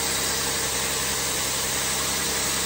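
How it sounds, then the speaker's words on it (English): A Lexus IS300 engine idles steadily just after starting, a constant close-up hum with broadband noise and no talking. "Now, I've just started the engine"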